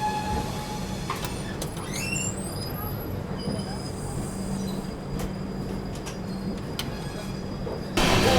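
The 12398 Mahabodhi Express runs steadily along the track in India, with a constant rumbling roll of wheels, faint high-pitched squeals and rhythmic clatter heard from inside the carriage.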